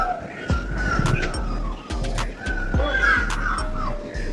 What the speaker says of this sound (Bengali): দেখো কাক বসে আছে